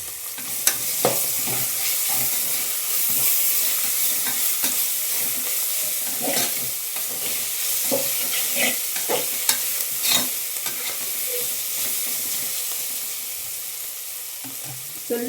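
Mint and coriander leaves frying in a pan for pulao, with a steady close sizzle and repeated stirring scrapes and clinks throughout.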